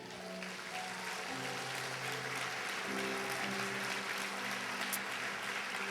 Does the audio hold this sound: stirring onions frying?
no